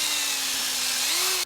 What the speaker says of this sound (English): now I can move my drill back and forth between these two locations, widen that into a